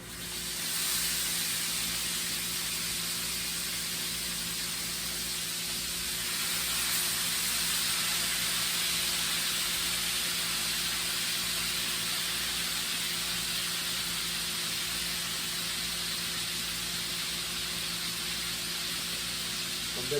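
Steak sizzles steadily in a hot pan, a continuous bright hiss with faint crackle holding at an even level throughout, with no talking.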